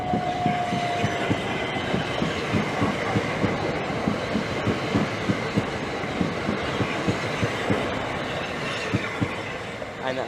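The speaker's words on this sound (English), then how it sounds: "this will be an 8-car train turning around in 5 minutes" An 8-car train rolls past close by at Rainham station with a steady rumble and rhythmic clickety-clack of wheels over rail joints, loud and continuous throughout.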